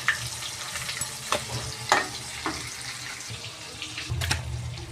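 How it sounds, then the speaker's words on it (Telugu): Pieces of fish frying in a pan give a steady close sizzle, broken by a few sharp clinks and scrapes as the pieces are turned, with no talking. "ఇలా ఒక్కొక్క పీస్ అయితే మంచిగా ఫ్రై చేసుకోవాలి"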